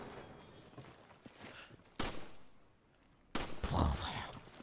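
A gunshot in the Resident Evil 5 video game, fired at a corpse: two sharp, loud broadband cracks about a second and a half apart, each followed by a short decaying rumble.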